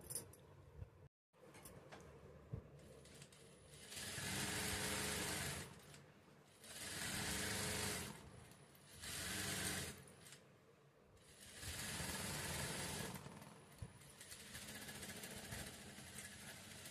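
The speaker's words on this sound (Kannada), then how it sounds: "ಇವಾಗ ಇದನ್ನು ಸ್ಟಿಚ್ ಮಾಡ್ಕೊಳ್ಳೋಣ" A sewing machine runs in several loud bursts of rapid mechanical chatter while stitching a fabric strip, pausing with brief clicks between runs; the sound is close and there is no talking.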